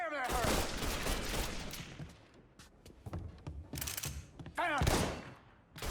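Gunfire in the video game Mafia 3 comes as bursts of rapid shots and heavy bangs, loud and close, with shouted voices in between and over the shooting.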